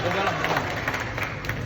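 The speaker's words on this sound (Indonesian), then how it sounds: "Tepuk tangan untuk Ketua Panitia." Applause from a crowd at a political rally in Aceh mixed with loud chatter and a voice over a sound system, a dense steady wash of clapping and noise.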